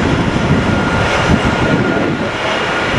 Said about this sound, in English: We've got 2 more KC-135s coming out as well.